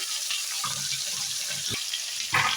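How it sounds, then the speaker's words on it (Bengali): Potato, papaya and pumpkin pieces drop into hot oil with a bay-leaf tempering, giving a steady close sizzle and hiss throughout, with a brief louder spatter near the end. "দিয়ে দিচ্ছি কেটে রাখা আলু, তার সাথে দিচ্ছি পেঁপে, দিয়ে দিলাম কুমড়ো"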